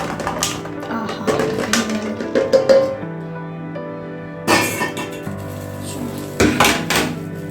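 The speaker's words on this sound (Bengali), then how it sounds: "ভাবছি যে কড়াটা ধুয়ে এটাতে বসাই" A metal karai (wok) is washed and set down on a gas stove: clanking metal, scraping and splashing in bursts, close and fairly loud, with pauses of quieter rattling between them.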